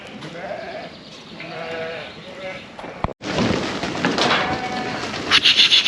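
Sheep bleat repeatedly in a farm yard, wavering calls rising over a steady background, with people talking and a sharp knock partway through.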